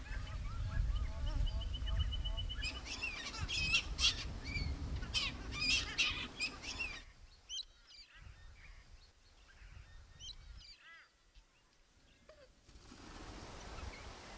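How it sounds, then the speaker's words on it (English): Galah cockatoos, Australia's most common large parrot, give a series of harsh, screechy calls in quick bursts, loud at first and then sparser and fainter after a pause, with a few scattered calls near the end. "This is Australia's most common large parrot"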